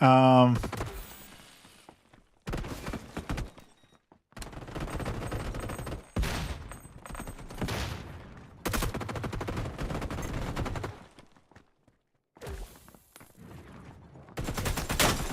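Rapid bursts of video game gunfire from the Fellowship demo crackle in loud, sustained volleys separated by short gaps, with a steady low hum running underneath.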